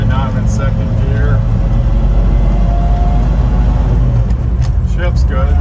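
A 1970 Toyota Land Cruiser with a column-shift three-speed drives along in second gear, its engine holding a steady low drone with road noise throughout and no pauses.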